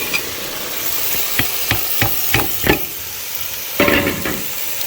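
Potatoes stirred into fenugreek leaves and spinach frying in hot oil: a steady sizzle with a series of sharp scraping stir strokes, close and loud, with no talk.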